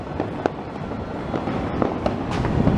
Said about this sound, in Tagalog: Puro putukan yan.